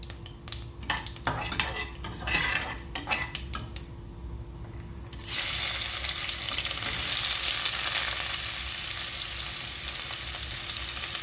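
Onions hitting hot oil for a Tamil vegetable biryani, a run of sharp metal utensil clinks and stirs, then a sudden loud hiss that settles into a steady, close, continuous sizzle with no talking.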